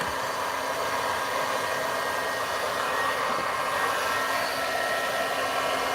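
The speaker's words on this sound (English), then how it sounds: "It's totally fine to use your heat gun on this silicone mat" A heat gun blows a steady, loud stream of air across ink on a silicone craft mat, a continuous broadband whoosh with a low motor hum that holds evenly throughout.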